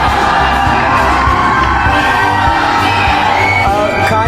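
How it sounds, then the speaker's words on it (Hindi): A large crowd at a university event cheers and shouts loudly for Khan Sir, a dense, sustained roar of voices and whoops. "चलिए खान सर के लिए एक बार जोरदार ताली बजा दीजिए।"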